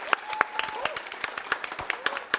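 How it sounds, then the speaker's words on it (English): Short burst of audience applause and clapping at a live speedrun event, a crowd clapping in scattered sharp claps that carry over a faint voice in the room. "Give him a big round of applause, everybody."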